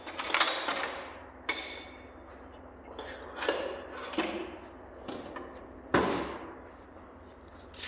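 Metal clanks and ratchet-like clicks come from someone forcing a tight bolt on the engine of a 1939 coupe fitted with a Holley Sniper dual 4-barrel, a handful of sharp knocks and creaks spread over several seconds, close and fairly loud.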